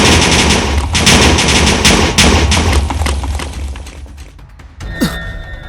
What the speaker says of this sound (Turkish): Bir dakika Bobby TNT koydu etraf havaya uçtu dostlarım.